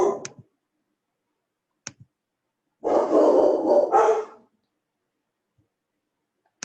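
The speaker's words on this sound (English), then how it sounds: "Sorry about my dog." A dog barks nearby in a couple of short bursts, the longer one a run of rapid barks lasting over a second, with sharp clicks in between and silence around them.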